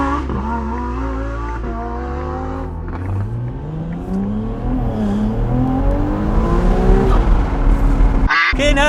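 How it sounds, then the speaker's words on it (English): A Ferrari 296 GTB V6 plug-in hybrid engine revs up hard through rising sweeps, loud and close, climbing in pitch over several seconds before a sharp shift and renewed roar. "How can an engine accelerate so quickly?"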